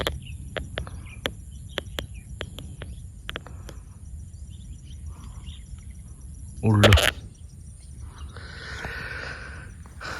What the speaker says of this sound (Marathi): होच तो पक्षी आराडता